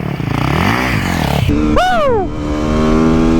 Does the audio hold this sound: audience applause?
no